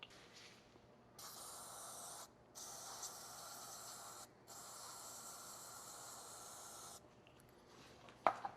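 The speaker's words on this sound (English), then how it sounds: "take some warm soapy water, spray it at that connector, and wash all that dirt and salt and stuff out of there" Warm soapy water is sprayed in several steady hissing bursts at a dirty wheel-speed connector on the rear wheel of a 2007-2011 Honda CR-V FWD, each spray lasting a second or more, close and fairly quiet with short pauses between.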